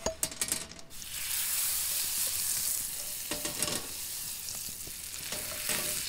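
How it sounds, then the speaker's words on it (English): Reindeer moss crisps in brown butter, a close, steady frying hiss that opens with a few clinks and stirring scrapes and recurs with light utensil taps. "I want to crisp up some of this reindeer moss in the brown butter."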